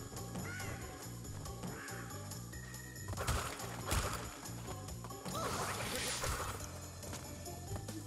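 Bird cawing in the Crash Bandicoot N. Sane Trilogy level Slippery Climb, heard as a few caws over steady game music and effects, with bursts of crashing noise midway.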